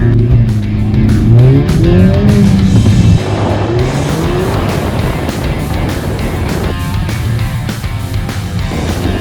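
A Mercedes hatchback speeds through a timed test run, its engine loud and close with rising and falling tonal revs early on, then a rougher, steady roar with tire noise.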